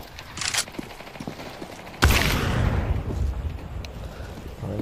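Video game gunfire: a burst of shots, then a sudden loud blast that rolls into a sustained roar of rapid firing and rumble, dense and close throughout.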